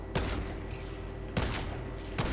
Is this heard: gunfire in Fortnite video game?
yes